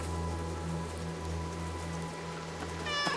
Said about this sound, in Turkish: Tamam miyavlamayı bulduk.